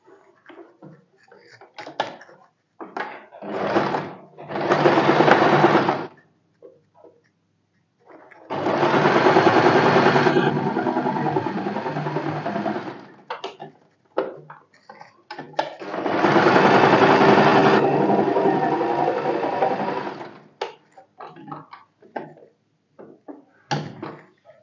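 Sewing machine stitching fabric during a blouse-sewing lesson, running in three sustained bursts of several seconds each, separated by short pauses filled with faint handling clicks.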